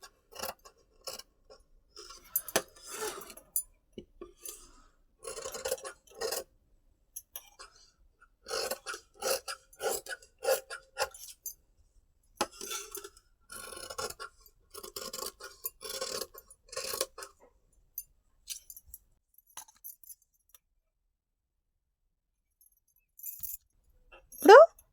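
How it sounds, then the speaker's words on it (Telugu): Scissors snip through blouse fabric along a prince cut marking in short bursts of crisp cutting and rustling, separated by quiet pauses, close and moderately loud. "ఇప్పుడు ఈ ఫ్రిన్స్ కట్ మార్కింగ్ కూడా కట్ చేసుకుందాము"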